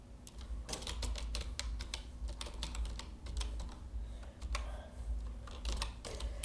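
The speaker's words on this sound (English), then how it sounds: "Start typing." Computer keyboard being typed on steadily while writing code, with rapid irregular key clicks and occasional louder strokes over a low constant hum, no speech.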